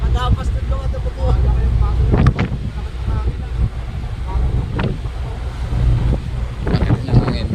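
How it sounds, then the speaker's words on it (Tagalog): Strong wind buffets the microphone aboard a boat at sea, a steady roaring rumble with gusts, close and loud, while people talk over it. "Lakas ng hangin."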